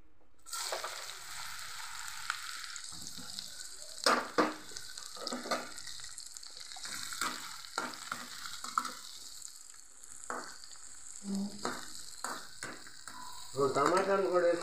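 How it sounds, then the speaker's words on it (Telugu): Onions sizzle in hot oil in a pan as they are stirred, a continuous frying hiss punctuated by scraping and clinking of the spoon against the pan, close up with no talk. "ఉల్లిపాయ వేస్తా, కాలిపోయి నూనె పొయ్యలు ఇచ్చాను."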